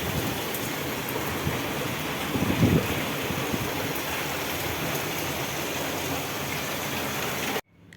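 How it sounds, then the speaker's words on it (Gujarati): Heavy rain pours steadily in Surat amid strong wind, a dense continuous hiss that holds at an even level with a brief louder swell partway through, then cuts off abruptly near the end. "સુરતમાં તો વરસાદ જો બહુ જ વરસાદ છે."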